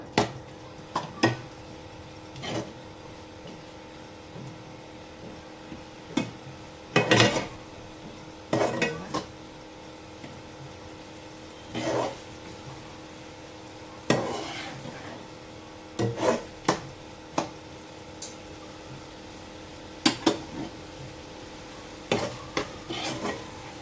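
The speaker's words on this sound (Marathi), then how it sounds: "सतत ढवळत राहायचे जोपर्यंत आपला गूळ व्यवस्थित त्याच्यामध्ये डाळीमध्ये मुरत नाही" A puran filling of chana dal and jaggery is stirred in a pan, giving intermittent scraping and rubbing strokes of the spoon against the metal, quiet and irregular, with no talking.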